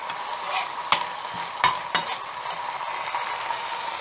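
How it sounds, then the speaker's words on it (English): Mutton liver, finely chopped, being stirred and fried in a pan: a steady close sizzle with a few sharp scrapes of the spoon against the pan. "mix it and fry"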